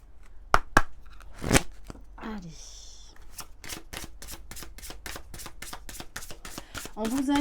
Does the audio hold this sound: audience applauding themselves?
no